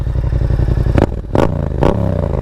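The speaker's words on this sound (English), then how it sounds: "This is Yoshimura R77 with the DB killer installed." A motorcycle, a Yamaha MT-07 with a Yoshimura R77 exhaust and dB killer installed, idles with a loud, choppy exhaust burble, then revs sharply three times in quick bursts.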